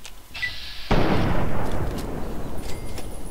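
In the video game Fallout 3, gunfire while shooting a turret: a hiss, then a loud burst of booming, crackling blasts that swells and slowly decays, with a faint tone near the end and no voices.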